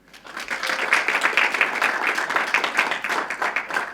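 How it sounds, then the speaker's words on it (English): Audience at a university debate on theism and the rationality of the universe applauding a society president: dense, sustained crowd clapping that swells quickly and holds at a steady, fairly loud level, with no voices over it. "Also big round of applause for him."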